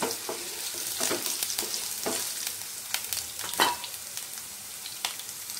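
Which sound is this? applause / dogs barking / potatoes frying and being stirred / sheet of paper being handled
potatoes frying and being stirred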